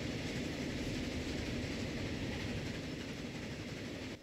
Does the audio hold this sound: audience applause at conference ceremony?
no